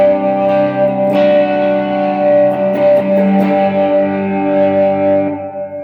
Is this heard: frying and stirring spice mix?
no